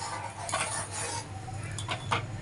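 A pot of milk heating on the stove for homemade yogurt gives a few light metallic clinks and clatters over a low steady hiss, with no voices.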